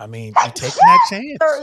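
A sharp, close sneeze bursts out amid a lively indoor conversation, with voices talking just before and after it.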